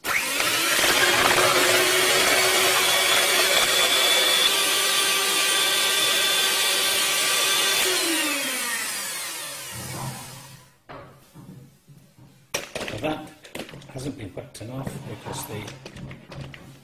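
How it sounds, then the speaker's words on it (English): Electric hand mixer whirring steadily in a bowl while whipping egg whites for smoked haddock soufflés, loud and close for about eight seconds before winding down, followed by quieter clatter and talk. "This is the part where I tend to have the most trouble whipping the egg whites."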